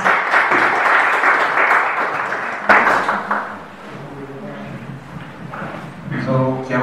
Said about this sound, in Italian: grazie per l'applauso, è meritato